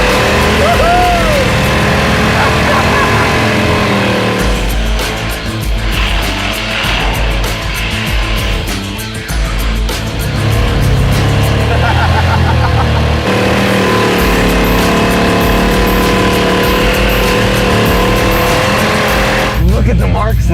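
A Jaguar nicknamed the Draguar, fitted with a swapped engine, roars loud and close as its tires spin and smoke, a dense continuous engine and tire din lasting throughout with excited shouting and cheering over it.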